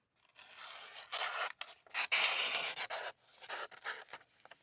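Knife blade from Temu slicing through paper laid partly flat on a table, a close, dry rasping cut in several short strokes with brief pauses between them.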